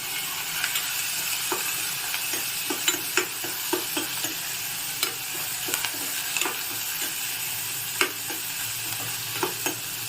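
Onions and curry leaves sauté in a pan for a millet poha vegetable bath, with a constant frying sizzle under repeated sharp clinks and scrapes of a spoon stirring against the metal.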